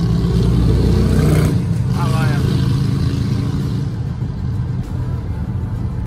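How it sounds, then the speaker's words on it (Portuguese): Traffic of cars and motorcycles on International Drive in Orlando, Florida, rumbles steadily with an engine revving near the start, while a person talks over the road noise. "Tô vendo muita gente andando de moto."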